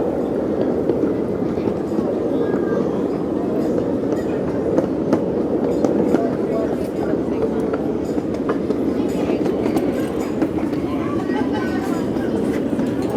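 A small live steam train rumbles steadily along its miniature track with a continuous rolling clatter, close by, with voices talking over it.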